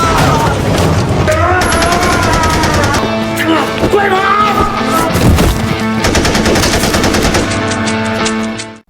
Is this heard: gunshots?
yes